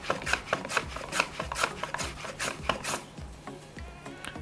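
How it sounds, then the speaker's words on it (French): A carrot sliced thinly on a mandoline, a quick run of close, crisp rasping strokes in a steady rhythm, each pass a short scraping swipe, with no talk. "on va la trancher à la mandoline assez finement"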